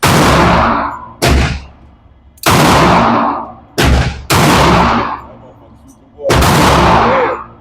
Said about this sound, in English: The dot is off, so I'm shooting with the iron.